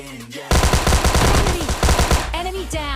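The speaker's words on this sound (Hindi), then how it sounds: "मैं मारता हूँ लेकिन बंदा फिर फायर करता है वो" Rapid automatic gunfire in the mobile battle royale game PUBG Mobile Lite bursts in loudly after a brief pause and rattles on for a few seconds, then tapers off while a voice speaks over it.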